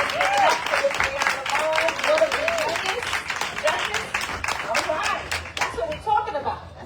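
Audience applause at a village mayoral and trustee candidate forum in Hempstead, a sustained round of many hands clapping that fills the room, with voices talking over it and tapering off near the end.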